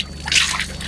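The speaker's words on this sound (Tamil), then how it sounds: "நல்லா போஸ்டா வருது தண்ணி" Water gushing strongly from a well pipe, a short burst of splashing, trickling flow heard close and moderately loud with no talk over it.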